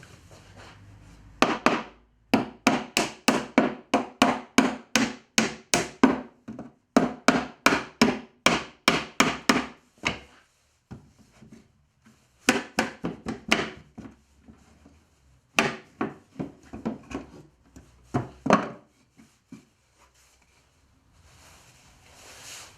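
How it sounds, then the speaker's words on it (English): Repeated sharp claw hammer blows strike pallet wood in quick rhythmic bursts while knocking out nails, with pauses between runs, close and loud in an otherwise quiet space. "knock these nails out that I've left here sticking out, get my claw hammer, pull those out"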